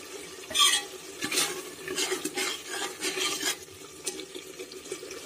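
Ginger garlic masala being roasted in a pan for urad dal with fenugreek, with repeated close scraping stirs of a spoon against the pan over a soft, steady sizzle.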